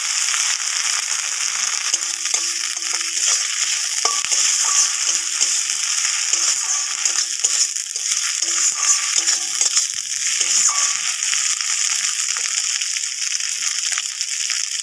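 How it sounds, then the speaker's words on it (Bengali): Cumin frying in oil for a gandhoraj malaikari, with ginger paste added afterward: a continuous close, hissing sizzle with faint stirring, and no voices. "জিরেটা খানিকক্ষণ ভেজে নেবো, তারপরে আদা দেবো।"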